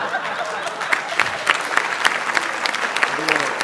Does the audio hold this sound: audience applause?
yes